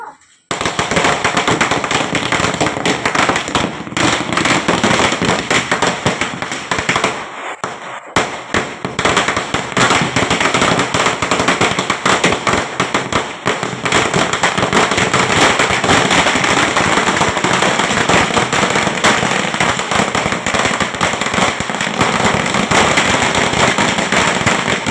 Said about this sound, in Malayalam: കണി കണ്ടു കഴിഞ്ഞതിന് ശേഷം പിന്നെ കുറച്ച് സമയം പടക്കമൊക്കെ പൊട്ടിച്ചിരുന്നു